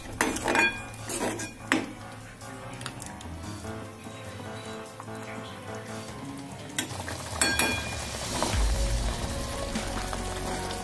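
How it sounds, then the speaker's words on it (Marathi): Okra masala curry being stirred in a pan, with steady sizzling, scraping and clinks of a utensil against the metal throughout, louder bursts of stirring near the start and end. "हे मिश्रण चांगल्या प्रकारे हलवून घेऊया।"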